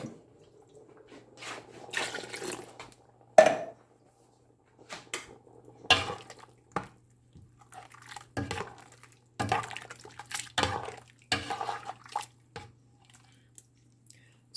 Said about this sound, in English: I try to add some water.